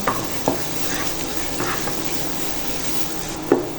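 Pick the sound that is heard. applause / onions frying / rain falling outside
onions frying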